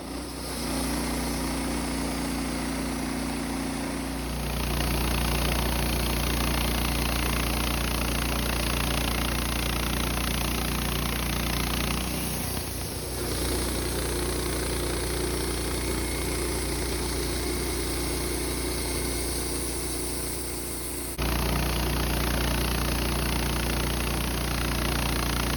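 A Woodmizer LT15 sawmill cuts through a knotty pine log, its engine droning loud and steady throughout, with slight shifts in tone as the blade works through the wood.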